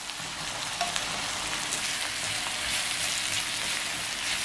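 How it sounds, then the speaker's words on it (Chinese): Shiitake mushrooms stir-frying with pork slices, garlic and chili in a hot pan give a steady, close, loud sizzle with scraping stirring, no voices. "将香菇炒出香味"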